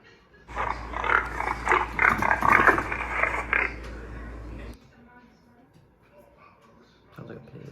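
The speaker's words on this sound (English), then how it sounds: "Sounds like a pig." A pig oinks and grunts loudly for several seconds as part of a hearing demonstration of animal sounds, with a low hum underneath, followed by quiet room noise and faint voices.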